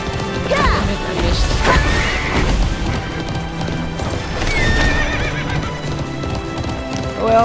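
Horse hooves clip-clop at a steady gallop with repeated neighs and whinnies in a horse racing video game, loud and continuous, with occasional crashing game effects layered over the hoofbeats.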